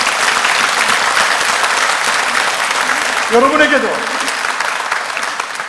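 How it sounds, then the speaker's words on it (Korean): A church congregation during a sermon breaks into sustained applause, a dense roomful of clapping heard steadily throughout while a pastor keeps speaking over it. "하나님께 영광의 박수를"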